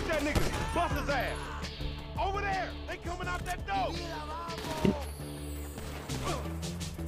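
Gunfire and crashing impacts in a GTA V firefight with Franklin and Lamar, with scattered sharp shots under a steady mix of game noise while people talk excitedly over it.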